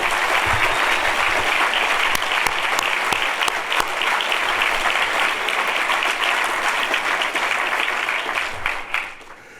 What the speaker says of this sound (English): I think we should applaud them specifically